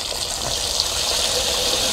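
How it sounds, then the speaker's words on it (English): Water gushes steadily out of the drain of a self-filling water tank in a chicken coop, a loud continuous hiss and rush at close range with no pauses. "I'll blow some water out using our drain"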